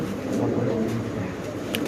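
A male racing pigeon coos close by in soft, repeated throaty murmurs, with faint background noise.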